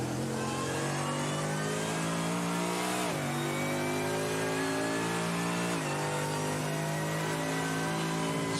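Mercedes race car engine in a Nürburgring endurance race in a sim racing game, roaring loud and steady at high revs with two sharp dips in pitch as it shifts gears, no voices.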